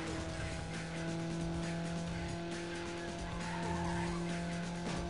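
Tires squeal in a long, continuous skid as a car understeers in the racing game Need for Speed Underground, with steady engine drone and game noise filling the whole stretch and no voice over it.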